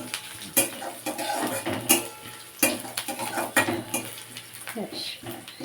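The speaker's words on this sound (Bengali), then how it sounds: "আদা কাঁচা লঙ্কাটা চলে যাওয়া পর্যন্ত আমি একটু নেড়ে নেবো" Ginger and green chillies being stirred in a pan, with a spoon scraping and clinking against the metal in irregular strokes and a soft sizzle underneath, close and moderately loud.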